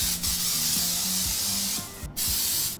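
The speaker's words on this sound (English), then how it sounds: "I'm using baking spray." A can of baking spray hisses in a few short bursts onto cake pans, close by, with faint rubbing and handling sounds between sprays.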